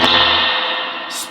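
Splashy, sloshing decay from the spring reverb tank of a vintage Fender Princeton Reverb amp with an Accutronics tank, a loud wash of distorted echo that slowly fades out, with no voices.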